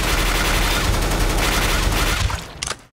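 Rapid automatic gunfire from a gun in Counter-Strike: Global Offensive, a loud, dense continuous spray of shots lasting over two seconds before cutting off with a few trailing bursts.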